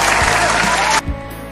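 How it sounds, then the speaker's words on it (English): Students listening to a school radio science lesson clap in a short, fairly loud burst that cuts off sharply at about one second, leaving quieter background. "Who among you got 5? Clap 5 times."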